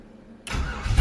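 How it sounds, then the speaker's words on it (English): An LS-swapped Chevy S10 drag truck cranks and fires after a short quiet moment, its engine catching abruptly into a loud, rough, deep rumble that swells near the end, heard close with no talking. "Let's see how well it fires back up."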